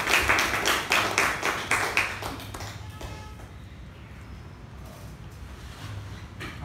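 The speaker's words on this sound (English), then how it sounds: "Please put together a big round of applause for our presiding officer for today" A roomful of people at a Toastmasters communication club meeting claps for the presiding officer, a strong burst of applause that fades after about three seconds into quiet room noise.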